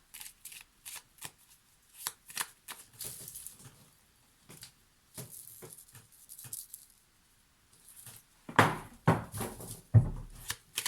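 Tarot cards being shuffled by hand, a run of crisp papery riffles and slaps in irregular bursts, with louder, fuller shuffles near the end.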